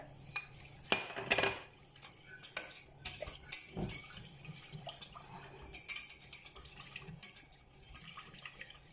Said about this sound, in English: This is our all-purpose flour, and I'm just going to go ahead and dump it in there while stirring. So you want a vigorous stir.